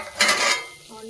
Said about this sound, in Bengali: পেঁয়াজটা ভেজে নিলাম, লঙ্কাটা দিলাম।